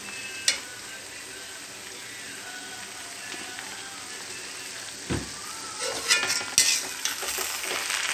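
Soybean and pointed gourd pulao is stirred in a pan after ghee goes in, giving a faint steady sizzle with a sharp utensil clink early on and scraping, clattering stirs toward the end.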